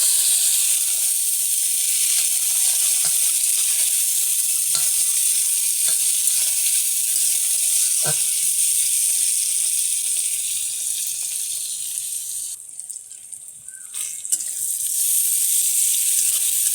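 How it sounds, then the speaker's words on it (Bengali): Sliced onion and tomato frying in hot oil with cumin seeds and bay leaf, a steady close hiss with a few sharp spits and utensil scrapes, easing briefly near the end before sizzling on. "পেঁয়াজটা ভাজা ভাজা হয়ে গেছে"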